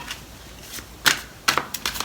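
A deck of tarot cards being shuffled by hand, heard as a few separate crisp riffling bursts and flicks at close range against a quiet background, with no talking.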